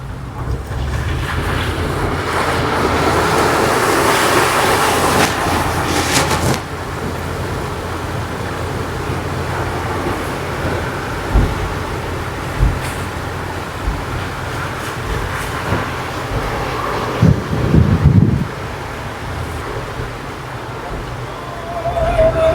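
Heavy rain beats down as a car drives and splashes through floodwater on the way to grocery shopping, a loud continuous wash of water and wind noise with occasional surging splashes.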